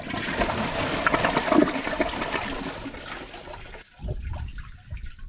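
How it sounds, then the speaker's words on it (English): A 2009 Kohler Wellworth Class 5 toilet with original tank parts flushes with a loud rushing swirl of water, which cuts off near the end and gives way to a softer refilling gurgle. "So let's give it a flush."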